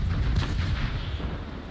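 Stern chaser cannons firing aboard a sailing warship in Naval Action, a muffled, distant boom with low rumble trailing off, heard alone at a fairly quiet level.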